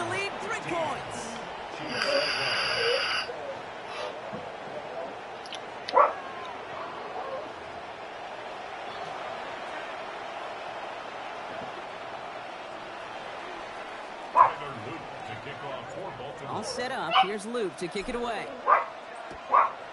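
A dog barks and yips in short bursts near the start, with a few later sharp sounds, under steady American football video game commentary from a male announcer.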